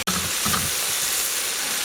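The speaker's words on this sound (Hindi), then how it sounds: "मुझे भूनते हुए इसे 8 से 10 मिनट हो गए हैं, जो 4 मिनट मज़ीद भूनूंगा।" Diced pumpkin sizzles and fries in oil for halwa, a steady soft hiss with a few brief bursts of stirring near the start, fairly quiet and close with no talking.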